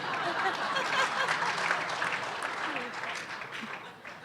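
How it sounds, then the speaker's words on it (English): Brief burst of audience clapping at a university community talk, moderately loud and steady, with a faint chuckle or two mixed in. "I'm a little perplexed that so many of you are clapping."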